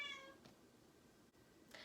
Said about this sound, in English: if you hear meowing, that is my cat